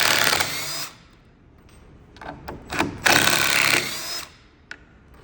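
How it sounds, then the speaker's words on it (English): An impact driver runs in reverse backing screws out of a shaped wooden sanding block, loud close whirring bursts in several short runs separated by quiet gaps. "we will use our impact now in reverse and remove our screws"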